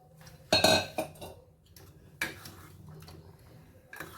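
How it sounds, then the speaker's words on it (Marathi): Cooked dal being added to sambar in a pot with cauliflower, heard as a loud metal ladle clink against the pot followed by a few softer taps and scrapes in a quiet kitchen. "आता ह्याच्यामध्ये जेवढं लागेल तेवढं वरण आपण घालून घेऊया आधी मी थोडंसं घालते"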